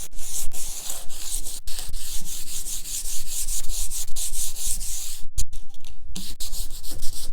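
Steady hand sanding of a wooden coffee table with a sanding pad during a furniture makeover, a continuous close scratchy rubbing broken by a few brief pauses, with no talk.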